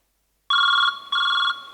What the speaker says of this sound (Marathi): जरा बाहेर जा, माझ्या नवऱ्याचा फोन येतोय